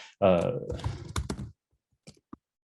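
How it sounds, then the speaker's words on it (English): A computer keyboard being typed on while entering a note into a health checklist: a voice talks at first, then a couple of sharp, isolated key clicks follow in near silence. "So if I just start typing"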